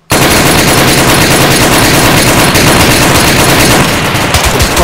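Sustained automatic gunfire from the military shooter ArmA 3 in a co-op firefight across a field in Kunduz, Afghanistan: loud, dense rapid bursts from start to finish, with distant shots layered behind.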